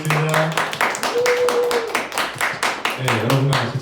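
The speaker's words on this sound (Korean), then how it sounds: "주님께 영광의 박수 올려드리겠습니다" Church congregation clapping in a steady rhythm, a run of sharp, evenly spaced claps over about four seconds with a sustained tone and voices underneath.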